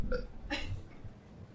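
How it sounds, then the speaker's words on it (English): A single loud belch from a comedy performer on a live stage show, a short burst with a brief lead-in sound, then quiet room tone. "Must you belch so?"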